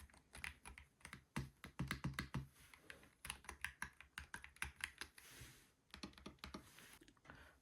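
Mchose ACE 60 PRO mechanical keyboard typed on in quick bursts of crisp, close clicks and clacks, with a short pause near the middle and nothing else heard.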